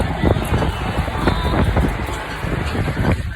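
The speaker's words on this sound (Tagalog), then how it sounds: "Ang lakas ng hangin." Strong wind buffets the microphone during an outdoor walk toward a park, a continuous loud rushing roar with uneven gusts and thumping bursts close up.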